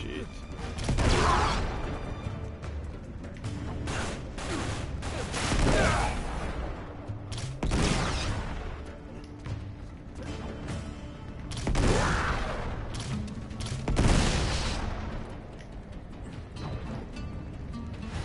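Video game gunfire from Uncharted 3: Drake's Deception, including a shotgun, comes as repeated loud bursts and booms in a dense, noisy battle mix. Someone talks over the shooting.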